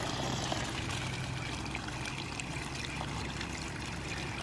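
Water and air spurt continuously from a valve on a buried ram pump pipe, a steady, fairly faint hissing rush with no talking.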